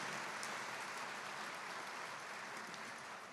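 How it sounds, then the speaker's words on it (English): An audience at a school district excellence-in-education evening applauds a jazz band: soft, distant, even clapping that sounds like light rain, continuing without pause and tapering slightly at the end. "our jazz band, let's give them a round of applause"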